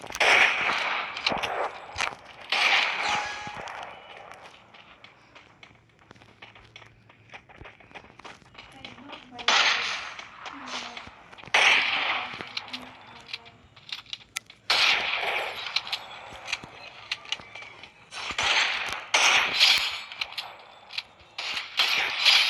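Gunfire from the mobile battle-royale game Free Fire Max comes in several rapid bursts of sharp, clicky shots, clustered near the start and again in the middle and near the end, with quieter mechanical game sounds between them.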